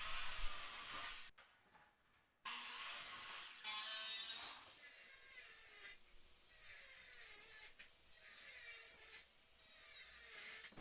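A saw cuts deck board and steel tubing for a hot tub table frame, giving steady rasping strokes. A brief pause comes early, then the cutting resumes with a repeated rhythm, close up and loud, with no voices.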